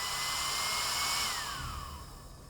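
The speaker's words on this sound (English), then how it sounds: "the motor now responds a lot slower to a speed request and applying the ramp rate we've set earlier" A low-power fan motor slowing down gradually along a set ramp rate, its steady whir holding and then falling smoothly in pitch as it winds down, alone and close.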